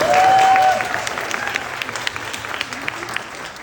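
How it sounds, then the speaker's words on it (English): A theme-park audience at a D23 Country Bears presentation at Walt Disney World's Magic Kingdom applauds a guest, a short burst of clapping that fades into scattered claps with a faint tone at the start. "Big round of applause for Kevin"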